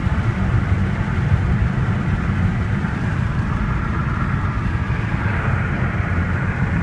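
A steady low engine rumble and road noise from a moving Nissan Altima, continuous and even throughout, heard from inside the vehicle.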